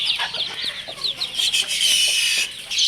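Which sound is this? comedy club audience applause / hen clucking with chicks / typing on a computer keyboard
hen clucking with chicks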